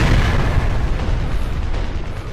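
A loud, rumbling explosion from the video game Sniper Ghost Warrior 2 fills the whole stretch, a dense roaring boom that slowly fades, with no speech.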